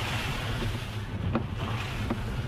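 A vehicle drives through water lying on a broken, flooded road in Assam, a steady low sloshing wash and rumble under wind buffeting the microphone, with a couple of brief splashes standing out.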